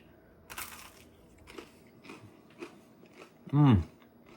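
Close, crunchy bites and chewing of whole-wheat einkorn sourdough bread with strawberry preserves, several separate crunches in a row, ending in a short voiced murmur.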